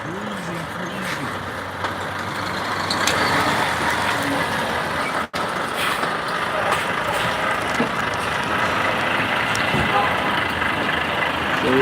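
A lorry cruising along a road in winter, its engine and road noise a steady, loud broadband rumble throughout, with a brief dropout near the middle.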